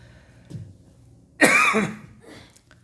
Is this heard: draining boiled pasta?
no